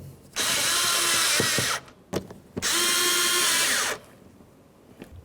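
A power drill with a socket spins grab handle bolts in a Nissan Titan door, two loud sustained whirring bursts of over a second each, with a few clicks between, close up and without talk.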